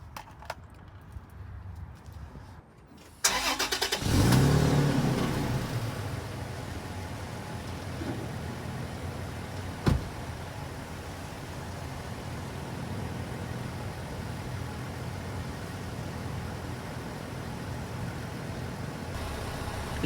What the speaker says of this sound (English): And the tailpipe is right there, and I'm idling it.